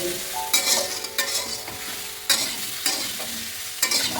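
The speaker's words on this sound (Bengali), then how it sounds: "এই যে আমগুলো প্রায় একটু ভাজা ভাজা হয়ে এসছে, আর একটু নেড়ে নেবো।" Sun-dried mango pieces frying in a pan and being stirred, a steady sizzle broken by several sharp scraping strokes at irregular intervals, close and fairly loud with no talking.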